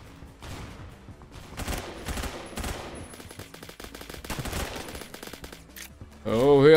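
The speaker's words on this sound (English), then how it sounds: "Oh, who else is shooting at me?" Dense gunfire in the Roblox game Phantom Forces: overlapping automatic bursts and single shots crackle near and far, followed at the end by a sudden loud warbling burst.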